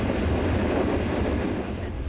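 Steam vents from a borehole drilled over a kilometre into volcanic rock at a new geothermal plant in Iceland, a loud, steady broadband roar that stays constant and unbroken throughout.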